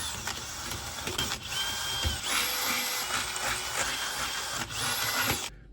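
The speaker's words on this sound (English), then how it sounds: "Now we can drill some holes." Drilling holes with a power drill, a steady whirring grind running almost six seconds with slight dips in pitch and load, fairly loud and close, then stopping abruptly.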